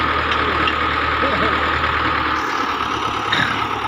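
A Russian Belarus tractor engine idles steadily and close by, a continuous low chugging drone with faint background noise throughout.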